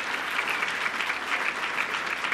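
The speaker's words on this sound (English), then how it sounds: "let's give him another round of applause" A crowd at a civic announcement gives Mayor Rosas another round of applause, a dense, even patter of many hands clapping continuously and fairly softly.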